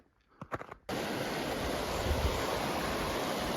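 A few faint rustles, then a mountain river along a snowy high trail bursts in as a loud, steady rushing roar that fills the rest of the clip.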